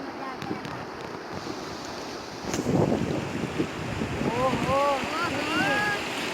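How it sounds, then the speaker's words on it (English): River water churns and splashes steadily during rafting on the Jia Bhoroli river in Assam, a broad rushing wash with wind noise that swells midway, while people's voices call out briefly near the end. "The waves, it's just awesome."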